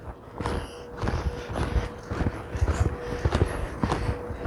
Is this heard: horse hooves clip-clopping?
yes